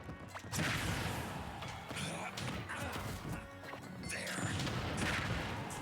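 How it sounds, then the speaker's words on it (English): Explosions and grenade blasts from the Super Smash Bros. Ultimate game in an online exhibition match, a dense run of sharp crashes and booms with whooshing hits, continuous and moderately loud throughout. "Grenades, explosions, C4s, mortars, Nikitas, everything you can think of."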